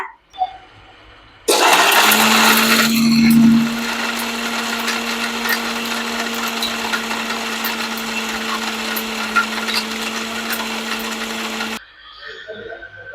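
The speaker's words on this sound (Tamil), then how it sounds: "இதுக்கு அரைக்கிறதுக்கு தேவையான பொருள் எல்லாம் ஜார்ல போட்டோம் இதையே நல்லா தண்ணி ஊற்றி நைஸாக அரைச்சி எடுத்துட்டு வந்துடலாங்க" A kitchen mixer grinder jar whirs as it grinds coconut, cinnamon and fennel with water into a smooth paste. It starts abruptly and runs as one loud, steady, droning whir for about ten seconds before cutting off.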